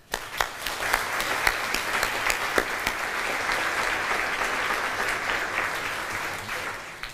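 An audience applauds partner representatives at the final of a French dictation contest, starting with a few near claps and swelling into dense, sustained clapping that holds steady and then tapers off.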